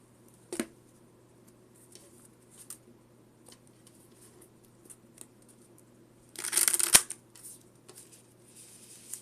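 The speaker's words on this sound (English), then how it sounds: "now I just have to shuffle this" A deck of Pokemon trading cards is shuffled by hand, with soft isolated card flicks and then a denser burst of riffling crackle near the end, quiet and close, with no talking.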